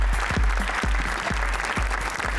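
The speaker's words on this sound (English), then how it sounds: "Can we give him a big round of applause?" An audience at a business awards celebration gives a round of applause, steady broad clapping throughout with low thumps mixed in.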